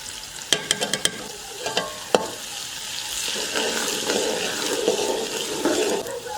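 Onions brown in hot oil with salt and turmeric for a mutton karahi, opening with a few sharp clinks of a spoon against the pan before a steady, soft sizzle settles in.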